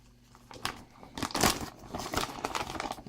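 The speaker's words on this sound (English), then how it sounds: "If I can open the plastic bag." A plastic bag holding a Honeywell magnetic contact is pulled open, giving close, irregular crinkles and crackling rustles that swell in the middle and keep going to the end.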